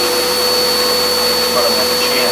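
A Bissell Cleanview upright vacuum cleaner, model 1831, runs at full power with a steady, loud motor whine and airflow roar that holds constant throughout, no talking over it.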